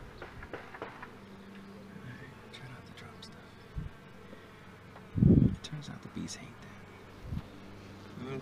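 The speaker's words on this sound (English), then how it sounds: "Lots of bees." A honeybee colony buzzing inside an opened hive during an inspection of a newly caught swarm: a continuous close drone of many bees, broken by a few dull knocks and thumps from handling the frames.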